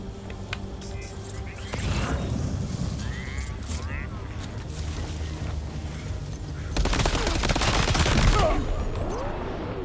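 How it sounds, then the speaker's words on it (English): Silenced machine gun fire in a Death Stranding 2 enemy base fight: muffled bursts of rapid shots with booms and game effects, heaviest near the end, while a voice talks over parts of it. "I'm assuming it's a silenced machine gun"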